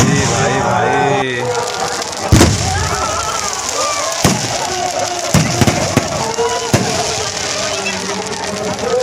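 Firecrackers and fireworks burst at night during a village competition in Odisha: a few loud, sharp bangs spaced a second or two apart over a busy crowd, with people talking and shouting nearby.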